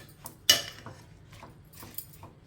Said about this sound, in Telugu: ఇప్పుడు ఇదంతా ఒకసారి కలుపుకోవాలి